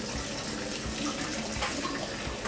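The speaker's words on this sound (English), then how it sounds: "we have to drain the noodles" Boiled lasagna noodles and their hot water pour into a colander, a loud continuous splashing gush with no talk.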